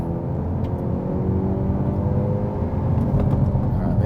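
A 2024 Hyundai i30 Sedan N launching hard with wheel slip, a loud, steady low engine roar heard from inside the car that builds as it accelerates.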